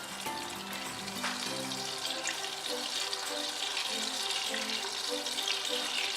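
Oil and butter hiss in a hot pan while potato leek soup is started. The sizzle is loud, close and continuous throughout, with faint tonal sounds underneath.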